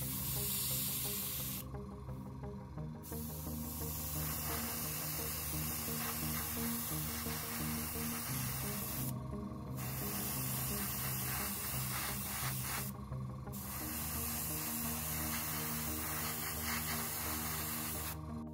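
An airbrush sprays Dark Ghost Grey paint onto a Bandai Death Star II model, a steady close hiss over a compressor drone, broken by three brief pauses as the trigger is released.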